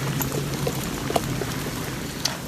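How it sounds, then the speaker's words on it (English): Water boiling in a pot on a camp stove outdoors on a mountain hike, a steady soft bubbling hiss with a low burner rumble underneath and a few faint pops, fairly quiet and close. "got our water boiling."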